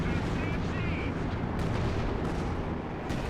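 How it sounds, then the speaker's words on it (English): Artillery fire in the World War II strategy game Company of Heroes 2 on the Road to Arnhem map, a dense, continuous barrage of booms and blasts with occasional sharper cracks, loud throughout. "Artillery taking out the ML20"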